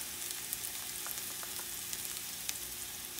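A pan of sofrito sizzling as it fries, an even, soft crackle with tiny pops scattered through it and no talking.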